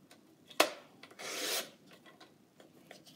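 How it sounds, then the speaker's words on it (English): A paper trimmer slices a one-inch strip off a sheet of 12x12 cardstock, giving one sharp click and then a short, soft sliding rasp of the blade, close and quiet. "we're just going to trim 1 inch off and then another inch"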